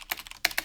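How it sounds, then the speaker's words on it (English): Quick keystrokes on a gaming mechanical keyboard, an Asus ROG Azoth, sound as about four crisp, close clicks in an uneven rhythm with no voices. "most of the gaming keyboards, if they don't sound like this"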